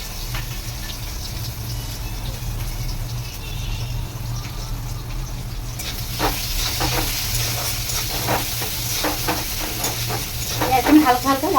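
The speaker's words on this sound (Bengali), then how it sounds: "পেঁয়াজ দিয়ে দিলাম।" Onions hit hot oil with dried red chilli, cumin and bay leaf, sizzling and frying steadily, then stirred with scraping clatters that grow louder in the second half, close up and without talking.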